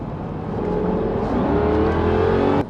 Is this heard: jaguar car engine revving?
yes